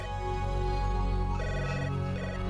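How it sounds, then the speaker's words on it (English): Intercom ringing in the video game Three Minutes To Eight, a continuous electronic ring droning steadily under a dense layer of game music and ambience. "That damn intercom is still ringing."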